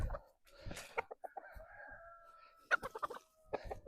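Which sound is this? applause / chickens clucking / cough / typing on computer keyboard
chickens clucking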